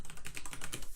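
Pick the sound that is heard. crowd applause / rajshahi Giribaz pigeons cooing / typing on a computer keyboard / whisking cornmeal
typing on a computer keyboard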